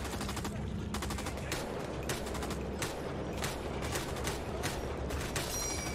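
Rapid bursts of automatic gunfire crackle through a World War II shooter game, RAID: World War II, with sharp repeated shots and short pauses continuing steadily throughout, fairly close and dominant.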